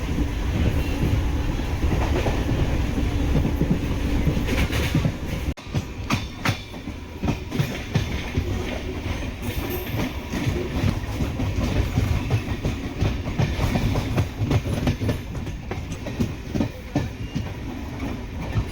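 A MEMU commuter train travels at about 100 km/h between Tiruvannamalai and Polur, heard from inside as a loud continuous rumble with rhythmic wheel clatter and rail joints clacking throughout.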